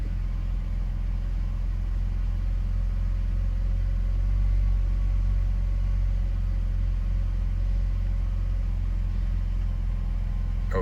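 A 2006 BMW 330xi E90 sedan, check engine light on, idles steadily just after starting, a constant low rumble with a faint hum held evenly throughout and no voices.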